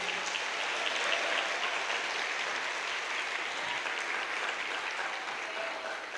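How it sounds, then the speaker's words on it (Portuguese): A church congregation claps strongly during a sermon, a sustained, even wash of applause heard at a distance, fairly quiet and tapering slightly near the end. "Aplaude esse Deus mais uma vez bem forte"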